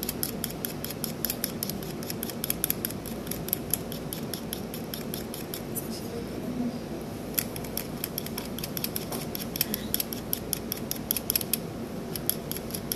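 Steady fine scraping and snipping as a scalpel carves and rounds the edges of a wax incisor tooth model, a close, continuous series of small cuts with no talking.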